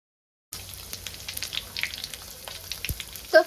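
Five-spice seeds crackle and sizzle in hot mustard oil in a kadai, a bright, continuous spitting fry with scattered pops and one louder tap near the end, no voices.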